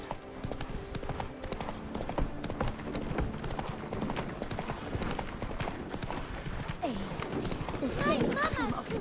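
Horse hooves clip-clop steadily at a gallop in the video game The Witcher 3: Blood and Wine, with game voices and background music overlaid and a brief whinny near the end.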